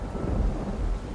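Heavy rain and a deep rumble of thunder fill an animated story, a dense low roar over a steady hiss lasting about a second, with no voices.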